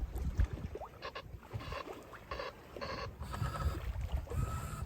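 A sailboat slips through water at night in light wind at about two knots, with steady low washing and lapping of water against the hull and occasional creaks and knocks from the rigging.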